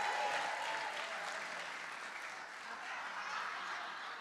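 Church congregation clapping steadily as a couple walks up onto the stage, a dense, fairly soft wash of many hands sustained throughout without talk.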